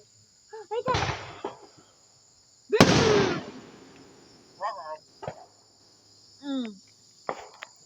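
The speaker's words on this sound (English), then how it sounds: "I see little fireworks sparkle over there." Small fireworks going off outdoors at an America's birthday (Fourth of July) celebration, giving two sharp crackling bursts about two seconds apart, with voices talking around them.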